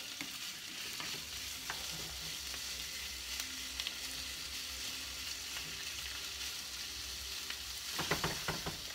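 Cheesesteak ingredients frying in a pan, a steady low sizzle with occasional stirring clicks and a burst of scraping near the end, close and without talk.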